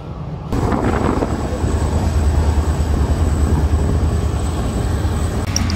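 A train runs along the rails with a loud, continuous low rumble and rolling roar, close and unbroken throughout.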